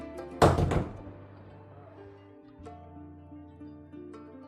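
A single heavy, muffled underwater blast thumps near the start, followed by a low rumbling tail and a steady droning hum, in Sabah.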